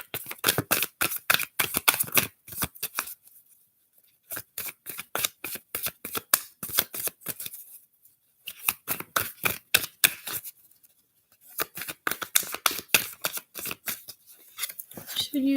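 Tarot cards are shuffled in rapid bursts of crisp flicking riffles, close and clear, broken by brief pauses between rounds.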